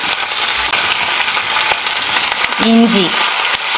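Pepper, cumin, green chili, curry leaves and coriander sizzle loudly in hot oil as a tempering for pongal, a dense crackling hiss close by, briefly joined by a voice near the end.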